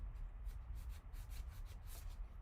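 Sandpaper rubs back and forth on a small wooden craft piece, giving quiet rhythmic scratchy strokes of about four or five per second, close and soft, with no talk.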